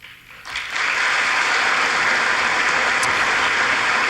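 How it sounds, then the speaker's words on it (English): At a political speech, applause starts quietly and swells within a second into a loud, dense, sustained ovation from a large audience that holds steady to the end. "give it a little bit of applause"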